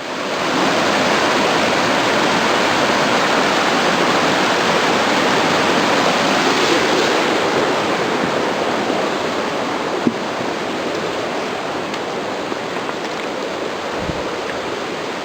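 A creek flowing down off Mount Washington along Big Creek Trail rushes in a loud, continuous, even roar of water, close by and steady from start to finish, with no voices.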